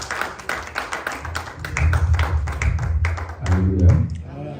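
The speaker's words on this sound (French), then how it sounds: "Ces acclamations étaient pour Papa Fidèle parce qu'il a fait une bonne prière" A church congregation at a Sunday service claps in scattered, rhythmic bursts while voices acclaim Papa Fidèle, with speech and shouting mixed under the irregular hand claps.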